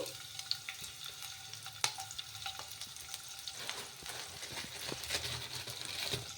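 Cumin seeds and chopped green chillies frying in hot oil, a soft continuous crackle and sizzle with scattered sharper pops and stirring clicks, fairly quiet and close, with no talk.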